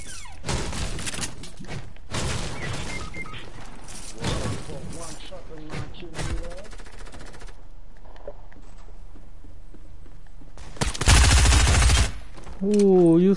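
Shotgun blasts in the battle video game Fortnite: a few loud, sharp bursts spread through the stretch, the biggest near the end, mixed with game effects and a person talking over it.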